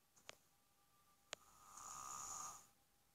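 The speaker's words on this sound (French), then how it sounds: "On dirait mon père qui ronfle." An old man snores in a video game, a faint drawn-out rasping snore with a couple of soft clicks before it.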